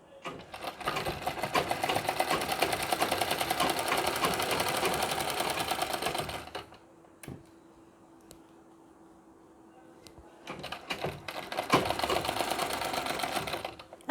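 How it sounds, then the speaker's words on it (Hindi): An electric sewing machine stitching a Nauvari saree runs in a loud, fast continuous whir, stops for a few seconds of near quiet, then starts up again close by. "पहले मशीन यहीं पर रख देनी चाहिए, यानी यहाँ से हमें सिलाई लगानी शुरू करनी है"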